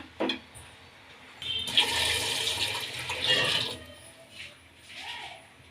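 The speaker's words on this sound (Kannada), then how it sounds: "ಈಗ ಒಂದು ಸ್ವಲ್ಪ ಇದಕ್ಕೆ ನೀರು ಸೇರಿಸ್ಕೊಳ್ಳೋಣ" Water splashes and pours for a couple of seconds into a bowl while making Bihari dal ki dulhan with wheat flour, moderately close, after a brief knock, then fades to quiet.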